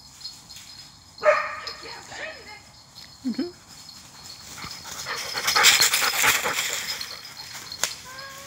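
A search dog on a training search gives a few short barks and pants at moderate distance, set against outdoor background noise with some voices.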